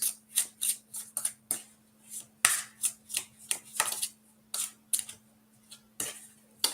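A deck of tarot cards being shuffled by hand gives a quick run of crisp, papery riffles and slaps in an uneven rhythm, close and fairly clear, over a faint low hum.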